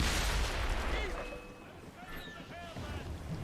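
Ship cannons in Assassin's Creed Rogue boom out over rushing wind and sea noise, a heavy close blast followed by further rumbling shots, with a voice calling out in the game.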